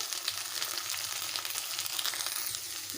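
Spices and ground chilli paste sizzle and fry in a pan for a vegetarian paneer curry, a steady close crackling hiss with no talk.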